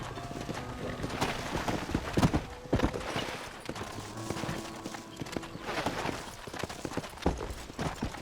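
Horse hooves clip-clop at a trot amid game sound effects in Red Dead Redemption, with occasional loud thumps and a low background rumble.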